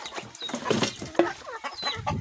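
Chickens on an island farm give several short, irregular clucks close by, with bursts of squawky calls in quick succession and no talk.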